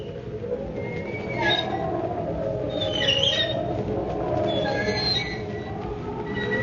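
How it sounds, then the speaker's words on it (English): A body swinging from a gallows creaks in a radio drama, a drawn-out squealing, groaning creak rising and falling in waves over a continuous low rumble, with no talking. "That sound is a body swinging from a gallows."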